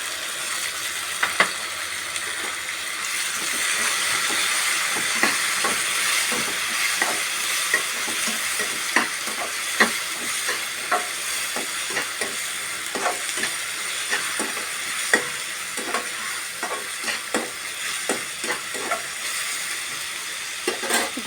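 Tomato paste frying in a pan for a free-range egg gravy curry, a steady close sizzle with scattered crackles and pops and occasional stirring scrapes throughout, no talk.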